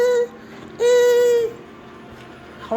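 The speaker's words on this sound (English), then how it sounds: "And that scanner's making some noise." A scanner gives off a steady electronic whine in two separate tones, the first short and the second lasting under a second, with quiet gaps around them.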